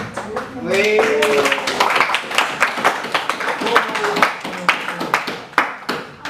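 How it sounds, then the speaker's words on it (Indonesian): Classroom clapping from students during a group discussion lesson: several bursts of sharp claps with voices speaking between and over them. "Ya, tepuk tangan."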